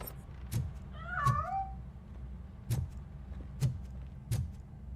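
A cat in RoboCop: Rogue City gives a single clear meow with rising and falling pitch, set against a low steady game ambience and a few soft thumps.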